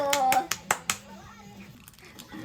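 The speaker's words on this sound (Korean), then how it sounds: "박수, 박수, 박수" A quick run of about five sharp hand claps, close and bright, during a goods-hunting vlog in Tokyo, followed by soft voices talking in the background.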